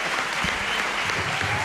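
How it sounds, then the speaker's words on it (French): Audience applause for a singer on a French TV show, a steady dense clapping that fills the whole moment without voices on top. "qu'on peut applaudir bien fort"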